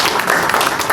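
Audience applause at a literary talk event in Patna, a dense steady clatter of many hands clapping close by, filling the whole short moment without a break.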